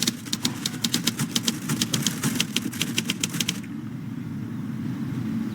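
Rapid keystrokes punched on a typewriter, a quick irregular run of sharp clacks over a steady low background hum, stopping partway through and leaving only the hum.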